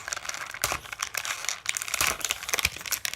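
Plastic packaging of a Fortnite Skull Trooper action figure crinkles and crackles loudly up close in bursts of rustling.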